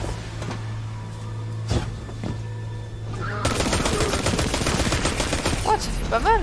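Gunfire in the video game Destiny 2: a few isolated shots ring out over a humming background, then a dense burst of rapid firing and impacts fills the last few seconds, moderately loud.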